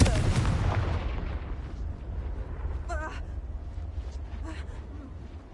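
A Confringo fire spell explosion in a Harry Potter video game: a loud burst at the start that decays into a rumbling tail, with fainter crackling flares and blips afterwards.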